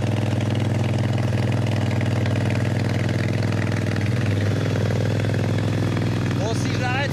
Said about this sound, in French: il a une moto qui fait du bruit